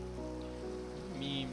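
Steady rain patters in the Minecraft video game at night, a constant soft hiss with a faint tonal background layer and no talking.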